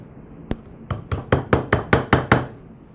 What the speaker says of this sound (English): Now reinstall the eyelet back onto the spool.